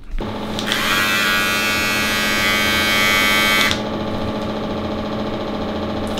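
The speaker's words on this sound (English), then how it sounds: "I'm also going to be shaving my legs." Electric razor buzzing while shaving legs, a close, steady motor drone that rises to a brighter, harsher whir for a few seconds, then settles back to a lower hum.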